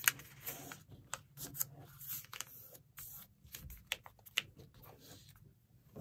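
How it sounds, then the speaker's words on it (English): Paper crinkles and rustles as a sheet is folded into an easy AeroDactyl glider, with irregular close-up crisp taps and scrapes of creasing paper and no talking. "I'll just take it and fold it right back up on itself, reversing this center fold."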